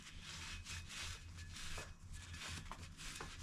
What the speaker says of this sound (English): I'm gonna take my rag, wipe as much stuff as I possibly can